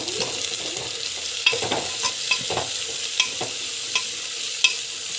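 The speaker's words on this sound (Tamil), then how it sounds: "வெஜிடபிள்ஸு எல்லாத்தையும் போட்டு இப்படி ஆட் பண்ணிங்கன்னா நல்லா வந்து வதக்கிட்டுருங்க" Vegetables sauté in a hot pan with steady sizzling, punctuated by regular scraping and clinking strokes of a spoon stirring them, close and without talk.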